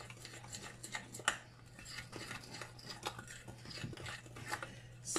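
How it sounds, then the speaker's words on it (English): Stirring an egg into Dollar Tree apple cinnamon muffin mix with a utensil in a bowl, producing soft repeated scraping and light clinks close by over a steady low background hum, with no talking. "I'm going to stir it up."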